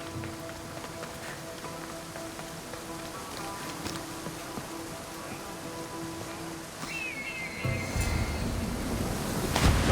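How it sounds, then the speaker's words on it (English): Rushing waterfall water in the Assassin's Creed Odyssey video game, a steady broadband roar with game music tones faintly beneath, swelling louder and closer toward the end. "This is the waterfall."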